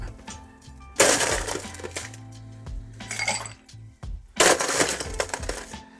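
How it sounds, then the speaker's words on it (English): Ice cubes clatter and clink loudly into a glass for a mango rum daiquiri, in three sharp close-up bursts of rattling ice separated by brief quieter gaps. "all we need to do now is just ice that up"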